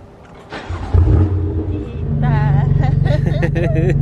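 A BMW M3 is started with its start button: a short cranking burst, then the engine catches into a loud, steady, throbbing idle, while people talk over it.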